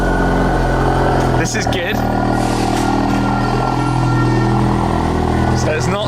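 A Ford Focus RS fitted with a Mountune exhaust idles loudly and close after its first start, giving a raspy, burbling drone that runs steadily throughout while someone talks over it.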